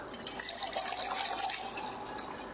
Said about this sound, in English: I like to take my julep strainer, set that in our shaker nicely, and then just pour it